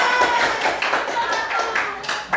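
A group claps for a correct answer during a quiz in a class session, a run of quick, rhythmic hand claps, fairly loud and near, with voices mixed in.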